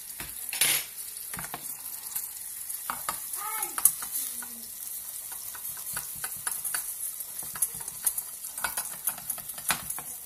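Butter dropped into hot, nearly finished caramel sizzles steadily with a broad hiss, punctuated by a few close scrapes and clinks of a utensil against the pan, with no voices.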